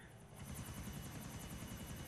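Helicopter in GTA, a steady loud rotor chop with fast rhythmic blade thumps and engine whine that swell in after a quieter first moment and hold throughout, with no talking.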